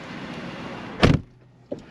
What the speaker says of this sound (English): Obviously electric windows.